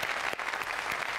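A studio audience breaks into steady applause, a dense wash of clapping sustained throughout with no voices on top.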